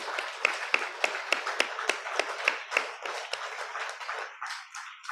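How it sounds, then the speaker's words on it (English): Audience clapping at the close of a conference session, a few pairs of hands in a fairly regular rhythm, moderately close, tapering off at the end with no talk over it. "Can we have a final enthusiastic round of applause for everyone who's in this room?"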